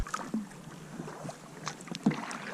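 Paddle strokes from a solo canoe on Lake Huron in spring, soft water splashes and drips at an irregular rhythm, close and fairly quiet over light wind.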